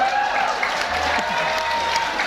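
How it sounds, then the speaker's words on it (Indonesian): Audience applause at a large training seminar, a dense steady wash of clapping lasting a couple of seconds, loud and close, with a voice faintly mixed in. "Ya, tepuk tangan dulu deh buat yang basic."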